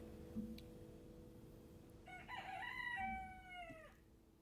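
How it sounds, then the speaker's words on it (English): A rooster crows once in the video game Dawn of Defiance, a clear, drawn-out cock-a-doodle-doo with falling pitch, heard alone over a low steady background hum. "Cock-a-doodle-doo indeed."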